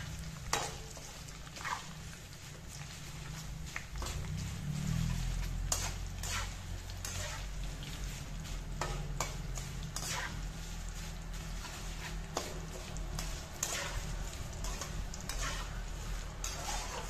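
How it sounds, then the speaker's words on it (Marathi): Curry leaves crackle and sizzle in hot oil in a kadhai for kurkurit poha chivda, a constant close frying hiss punctuated by sharp pops and occasional stirring scrapes. "एवढं छान असं तळून घ्यायचा आहे कढीपत्ता."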